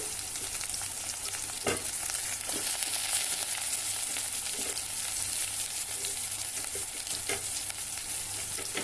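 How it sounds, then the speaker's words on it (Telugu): Onions tossed into mustard seeds already crackling in hot oil for a brinjal and dried fish curry give a steady, loud sizzle throughout, broken by a few sharp spitting pops and light stirring. "ఎర్రగడ్డలు వేద్దాము ఆవాలు వేగిపోయాయి"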